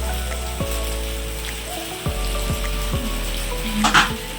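Pasta frying lightly in a pan over low gas, a soft steady sizzle with a few scraping knocks of a spoon against the pan.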